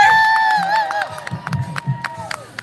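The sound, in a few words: audience applause and cheering for a volunteer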